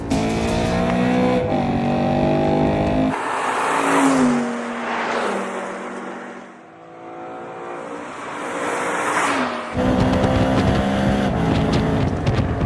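A car engine revs hard and high, whining up and down through the gears in loud, sustained bursts with a brief dip in the middle.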